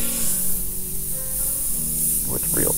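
An airbrush sprays paint onto a T-shirt for a graffiti and calligraphy design, a steady loud hiss running throughout with brief tonal sounds near the end.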